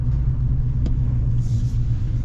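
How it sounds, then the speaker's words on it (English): A 2024 Chevy Silverado Trail Boss or ZR2 half-ton pickup gives a steady, deep exhaust rumble at a constant low idle-like pitch, close and continuous. "Sounds great too with this exhaust."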